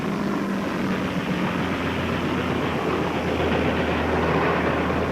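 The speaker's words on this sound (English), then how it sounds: "Almost all the attacking aircraft from Ozawa's carriers were intercepted by American fighters, and many were shot down" World War II attacking aircraft fly overhead as a loud, continuous engine roar with a broad rumbling drone and a steady low hum, unbroken throughout and with no voices.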